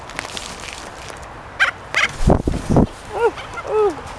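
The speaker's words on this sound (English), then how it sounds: "I am actually being attacked right now." Birds crowd around a person scattering seeds, with several sharp gobbling and yelping calls bursting out close by in quick succession over a low background of rustling and faint voices.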